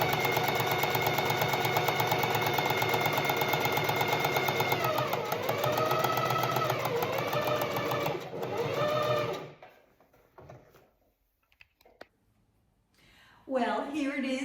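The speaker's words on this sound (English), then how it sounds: "I'm just using a straight stitch" A sewing machine runs a straight stitch along the white borders of appliques on a shirt, humming loudly and steadily for about nine seconds before stopping, followed by faint handling sounds.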